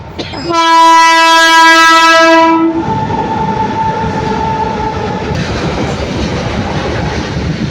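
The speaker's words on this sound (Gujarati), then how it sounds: "ટ્રેન નીકળે એટલે એ પણ તમને બતાવીશ" A train sounds a long, loud horn blast up close, then rumbles past with steady rolling wheel noise that continues to the end.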